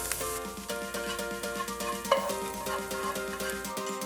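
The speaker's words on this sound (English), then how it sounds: "Stir-fry the carrots until softened" Carrots for gimbap stir-fried in a hot pan, a steady close sizzle with crackling and a few scraping stirs, no voices.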